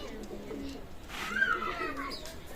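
Pakistani Teddy pigeons coo softly in a loft, with a short rolling coo rising midway through, mixed with someone talking nearby.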